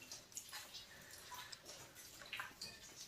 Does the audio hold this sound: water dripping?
yes